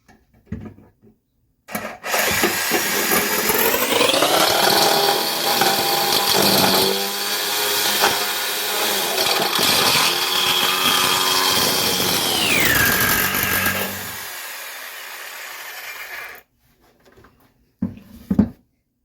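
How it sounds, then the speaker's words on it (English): A jigsaw fitted with a metal-cutting blade saws through a piece of metal clamped to a bench, a loud sustained buzzing whine for most of the clip with a pitch shift near the end, then a few faint knocks. "I've got my jigsaw set up with a metal cutting blade"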